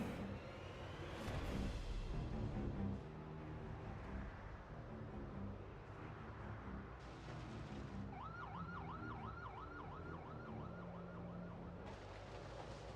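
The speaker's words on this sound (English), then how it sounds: "Okay, that was a siren that just went off." A siren goes off in the video game Project Zomboid, a distant wailing up-and-down tone that starts partway through and repeats steadily over a low ambient rumble.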